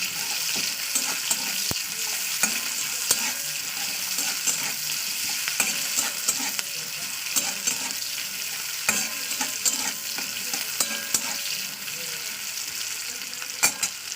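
Dried red chillies, bay leaf, cinnamon and a whole onion fry in oil as a spoon stirs, giving a continuous close sizzle with frequent scraping clicks and taps against the pan, with no speech.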